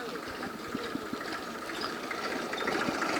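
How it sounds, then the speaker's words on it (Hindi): A tractor engine chugs steadily on a rural road as it approaches, a continuous mechanical drone with a rhythmic knock that grows slightly louder, while people talk nearby. "इस तरफ से एक ट्रैक्टर भी आ रहा है"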